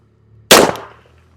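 A single sharp .45 ACP pistol shot, firing a 230-grain XTP round, cracks loud and close, then fades into a short decaying tail over a low steady background hum.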